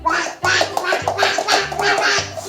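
A voice imitates a duck with a rapid run of repeated quacks, close and fairly loud, in short rhythmic bursts.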